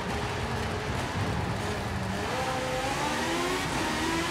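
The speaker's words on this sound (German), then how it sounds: "der Allrad ist natürlich jetzt schon geil, weil wir beschleunigen jetzt halt ultra schnell raus" An all-wheel-drive Hot Wheels car in Forza Horizon 5 accelerates hard, its engine climbing steadily in pitch over a constant roar of wind and road noise, close and continuous.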